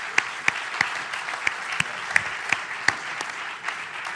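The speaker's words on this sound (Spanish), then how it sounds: "Un aplauso." Audience applause at a round-table wine event on Douro winemakers: scattered claps with a few sharp, distinct hand strikes standing out over a soft, steady clapping bed, fairly quiet overall.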